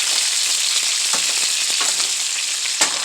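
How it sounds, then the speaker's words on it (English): Turkey wings sear in a hot pan with a steady, close sizzle of frying fat, broken by a few brief crackles and pops, with no one speaking. "this is how I want them seared"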